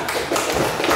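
Schoolchildren applauding in a classroom, a brief burst of quick, overlapping hand claps, close and even in loudness.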